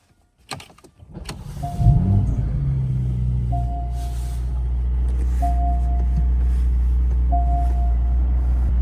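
A Porsche Cayman engine cranks and catches after a click, then settles into a deep, steady idle rumble with a faint periodic whine above it.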